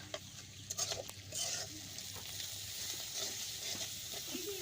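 Fish fries in oil in a home kitchen, a quiet steady sizzle broken by a few clinks and scrapes of stirring near the start.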